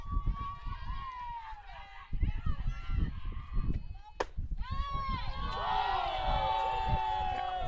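Spectators at a college softball game cheer and yell, many voices shouting and whooping together, rising to a sustained burst of loud cheering near the end, with a commentator talking over it.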